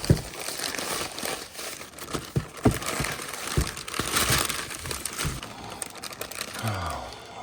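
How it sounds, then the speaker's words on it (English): Plastic and paper packaging around a Greene Racing performance camshaft crinkles and tears close up in a steady run of rustles and sharp crackles, with a few firmer handling knocks. "let's unwrap this"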